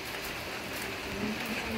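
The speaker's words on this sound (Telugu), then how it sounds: "వాన వస్తుంది కదా కదా" Rain falling steadily in a village, heard as a soft, even hiss of drops close by, fairly quiet and continuous with no voices.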